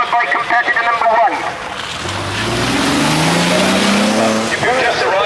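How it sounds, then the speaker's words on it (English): A Peugeot Talbot rally car on a 1986 Lombard RAC Rally stage, its engine rising in a loud pass as it approaches, with commentary voices talking over the start and end. "We're being followed in a very short time by the superstar Paul Faulkner in his Peugeot Talbot"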